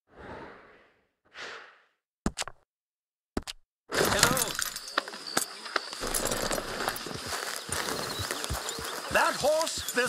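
Horse hooves clip-clop in Red Dead Redemption 2 after two soft breaths and a couple of sharp knocks, then a dense stretch of steady hoof beats mixed with game ambience and overlapping speech.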